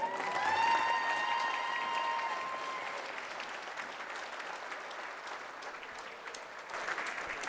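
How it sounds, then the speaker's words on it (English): Audience applause fills a gym at a school wrestling meet against Riley, loudest at the start and thinning gradually while a faint announcer-style voice and tones linger early on. "One more time, give them applause."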